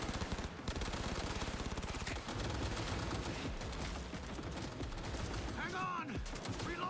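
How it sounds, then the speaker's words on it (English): Sustained automatic gunfire from a first-person shooter game, Cyberpunk, fires in rapid loud bursts that fill most of the stretch, with game sounds and a voice mixed in toward the end. "Jack, you just love walking in front of me while I'm shooting a gun, huh"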